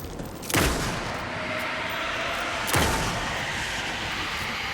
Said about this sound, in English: I think I can just shoot him, right?